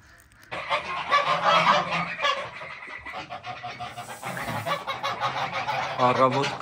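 Geese honk on a village farm on an early morning. The loud, close, overlapping calls repeat throughout with little pause.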